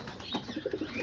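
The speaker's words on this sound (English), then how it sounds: "here's all the pigeons" Homing pigeons coo in a loft beside birds sitting on freshly laid eggs, giving a run of soft, throaty, close-up coos that quicken into a rolling series toward the end, with no talk.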